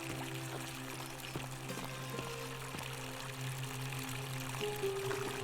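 Water pours steadily in The Forgotten City game, a continuous trickling stream layered with low droning hums and faint ticks, with no voices over it.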